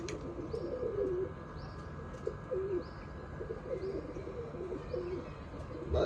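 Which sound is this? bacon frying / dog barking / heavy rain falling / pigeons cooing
pigeons cooing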